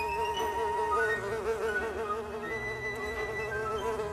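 A steady, wavering insect buzz holds throughout, dense and close, with its pitch wobbling slightly up and down and no voices.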